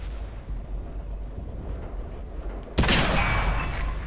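A tank gun shot strikes enemy armor without penetrating in a tank video game with a British Churchill heavy tank, a sudden loud blast at the end breaking over a low rumbling background and trailing into a sustained roar.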